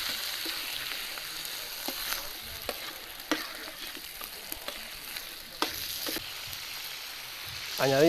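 Meat and liver sizzle steadily in a wide paella pan for an authentic Valencian paella, a continuous close frying crackle broken by a few sharper pops and light scrapes, with no talking.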